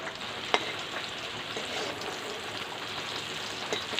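Pumpkin pieces fry in hot oil in a wok, giving a steady, fairly faint sizzle with a couple of small sharp pops.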